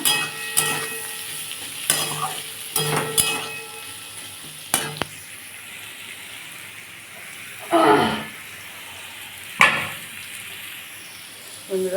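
Potatoes and pumpkin frying in a pan with salt: a steady crackling sizzle punctuated by several sharp spatula knocks early on and occasional louder scraping stirs later, close up with no talking.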